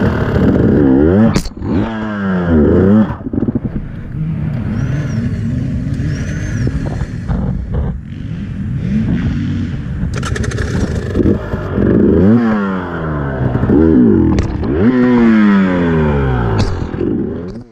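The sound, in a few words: motorcycle revving while stuck, rear wheel not getting traction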